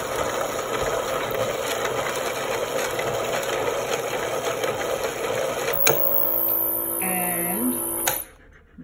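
A yarn-feeding machine, with the yarn feeding counterclockwise and prone to knotting, runs with a steady whirring mechanical hum and light ticking, then shifts to tonal whines before stopping abruptly.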